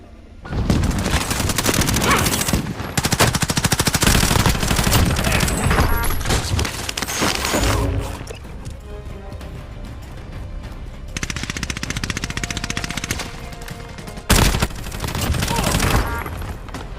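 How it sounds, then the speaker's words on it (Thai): Repeated gunfire from a toy pistol in the shooter game Call of Duty: Warzone, sounding as dense loud bursts of shots with short pauses, layered over game music and ambience. "เราก็ได้ปืน อันนี้มาแล้วนะฮะ เป็นปืนพกนะครับ จะลองใช้กันดูนะครับ"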